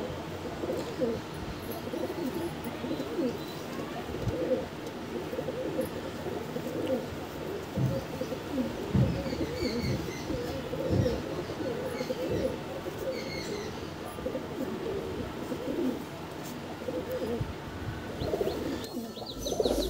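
Home-bred Andhra pigeons coo in low, soft, overlapping murmurs from a loft, keeping up a continuous, moderately loud warble with occasional faint chirps.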